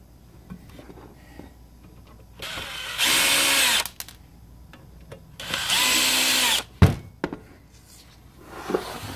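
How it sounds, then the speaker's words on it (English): A cordless screwdriver buzzes in two sustained bursts of about a second each, backing screws out of the cover of a 110 to 220 volt step-up transformer, with a clunk and light handling noise in between. "So let's go ahead and get the screwdriver, open this thing up, and take a look inside."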